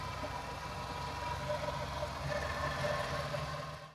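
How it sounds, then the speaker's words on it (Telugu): A Renault Kwid car's engine idles in good condition, giving a steady, moderately loud mechanical hum with no voices over it. "ఒకసారి మీరు ఇంజిన్ సౌండ్ గూడా వినండి"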